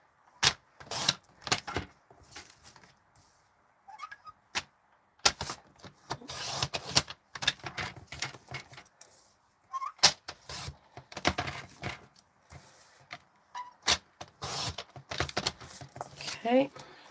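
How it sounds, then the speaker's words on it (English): Cardstock for a stamped greeting card is trimmed down, producing repeated sharp clicks and slicing strokes in irregular bursts, close and fairly loud, with a person talking intermittently between them. "I'm going to cut this down a little bit"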